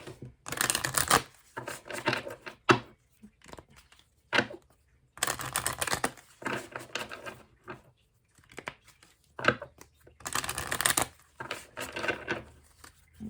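Tarot cards being shuffled and picked, close by, with irregular bursts of riffling and flicking separated by short quiet gaps.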